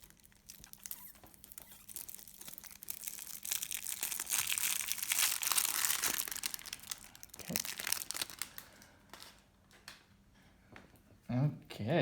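Packaging of an MTG Tales of Middle-earth Hosts of Mordor Commander deck being opened: close crinkling, tearing and crunching of plastic wrap and cardboard for several seconds, with someone talking quietly.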